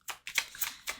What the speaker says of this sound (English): Aggressive shuffling.